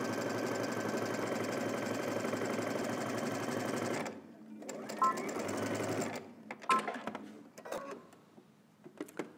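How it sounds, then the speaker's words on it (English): A sewing machine stitches a sleeve seam across through the shoulder seam at a 5/8 inch seam allowance on a Simplicity S9331 garment. It runs steadily and close for about four seconds, then stops and gives way to soft clicks and fabric handling. "let's head over to the machine and we're going to stitch all the way across on one end, across through the shoulder seam"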